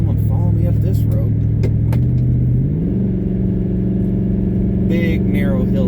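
A small truck engine labors in a low gear while climbing a big, narrow hill, with a steady loud rumble that rises in pitch partway through; someone talks over it throughout.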